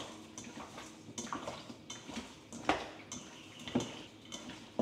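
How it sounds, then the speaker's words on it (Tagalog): Chicken being mixed by hand in a bowl with salt and pepper as a marinate for afritada, giving soft wet squelches and occasional light clinks against the dish, close and quiet, with no voices. "Then, mix lang natin siya."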